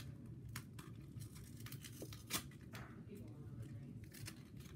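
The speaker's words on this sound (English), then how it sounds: "I'm opening Pokémon cards." Pokémon Sword and Shield Rebel Clash card packs being torn open, with soft crinkling and tearing bursts of foil wrapper close by, quiet and scattered, while a voice talks in the background.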